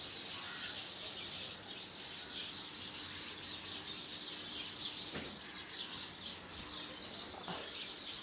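Sparrows and pigeons chirp in a dense, continuous chatter at an old Kolkata temple in the evening, with a couple of brief sharper calls.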